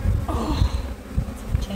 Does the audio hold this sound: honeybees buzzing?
yes